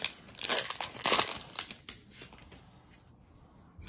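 Crinkly plastic wrapper of a Magic: The Gathering Outlaws of Thunder Junction booster pack being torn and crumpled open, bursts of close crackling for about two seconds, then quieter rustling.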